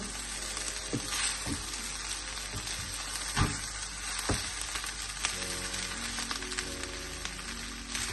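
Vegetable biryani with rice and mixed vegetables being stirred in a pot: faint, continuous sizzling with scattered soft scraping knocks from a spoon against the pot, no talk.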